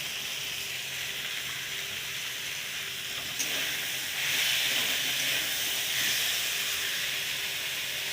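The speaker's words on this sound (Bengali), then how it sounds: "আলুগুলো দিয়ে বেশ ভালো করে একটু ভেজে নেব।" Potatoes fry in hot oil with a steady, even sizzle and hiss that swells slightly midway, with no talking.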